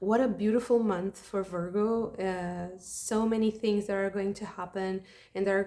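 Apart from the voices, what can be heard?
None of the usual background noises is heard.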